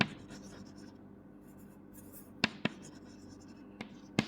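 A marker or chalk scratches across a board while a physics problem on projectile motion and trigonometry is worked out. Soft continuous scribbling comes close up, punctuated by a few sharp taps.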